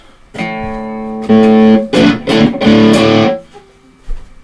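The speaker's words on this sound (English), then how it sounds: "I will put on the distortion channel on the amp" Electric guitar played through a heavily distorted amp, a sustained chord followed by several loud crunchy strums and ringing notes, fairly close.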